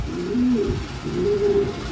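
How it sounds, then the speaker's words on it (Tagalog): Racing pigeons coo in a loft, two soft throaty rolling coos close by, low and mellow against a faint room hum, with no talking. "Ito yung mga stock bird niya, mga kalapatids"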